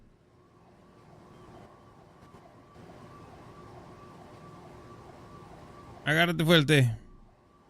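An emergency vehicle siren in a roleplay video game blares loud and close in a short wailing burst near the end, after a stretch of quiet engine hum and a brief spoken line.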